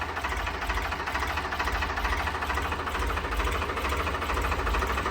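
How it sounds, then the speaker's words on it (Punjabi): A 3511 tractor engine idles steadily nearby after starting, with a rhythmic, knocking diesel chug that holds constant throughout, with no other sounds. "ਅੱਜ ਇਹਦੀ ਸਟਾਰਟ ਕਰਕੇ ਵੀਡੀਓ ਪਾ ਰਹੇ ਆ ਆਪਾਂ"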